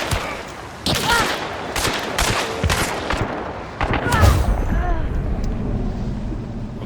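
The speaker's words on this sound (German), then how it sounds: "Was ist denn für ein Maschinengewehr?" Bursts of machine gun fire from the video game Hunt: Showdown. The rapid, loud volleys repeat in clusters over a rumbling background, and a voice talks briefly underneath.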